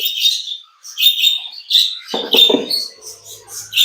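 High, shrill chirping from a close bird, repeated in quick bursts with short pauses, plus a brief rustling scuffle in the middle.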